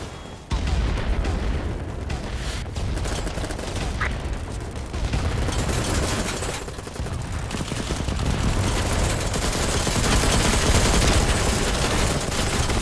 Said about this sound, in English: Like a mini LMG, guys.